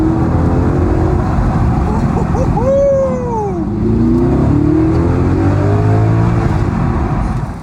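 A car engine revs as the car drives off, a loud, close roar that rises and falls with a voice talking over it.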